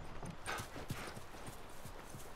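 Horses clip-clop steadily across ground in the video game The Last of Us, a continuous moderate hoof rhythm with a few brighter strikes, heard alone without talk.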